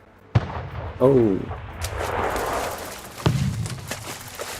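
Ship cannons fire during a naval attack in the Anno 1800 strategy game, with sharp booming reports followed by rumbling explosions, a few shots spaced across the moment, and a man briefly exclaiming over them.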